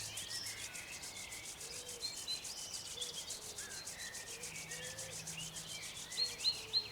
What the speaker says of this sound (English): and we rub our hands together.